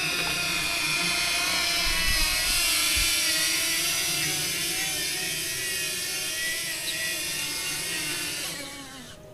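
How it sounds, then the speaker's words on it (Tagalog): A small drone hovering and flying nearby gives a loud, steady high-pitched buzzing whine that shifts slightly in pitch and fades near the end, with no talk over it. "Yun ang drone, gaganon siya."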